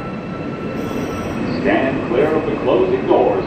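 An NYC MTA R160A subway car running on the E line through Queens, with a steady rolling rumble and rising wheel and track noise, while a recorded announcement speaks over it.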